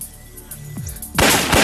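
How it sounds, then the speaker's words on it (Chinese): A gunshot in a bandit-era kung fu drama: a quiet, low rumble leads into a sudden loud, sharp blast that echoes and decays, with a second crack close behind. "哥，哪儿打枪？ 听枪声，好像是南边。"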